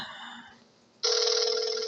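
An old 1960s rotary telephone bell rings loudly and steadily close by, starting suddenly after a quiet moment and continuing without pause.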